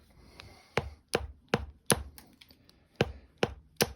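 Sharp, clicking strikes of a flintknapping tool on white glass being shaped into a knife blank: about nine crisp, evenly spaced taps, close and fairly loud with quiet gaps between, and no talking.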